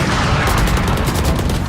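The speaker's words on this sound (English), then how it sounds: "He's gonna get a wall bang shot" Wall bang gunfire erupts in a Valorant college match between James Madison and Boise State, a loud rapid burst of shots rattling continuously and close up.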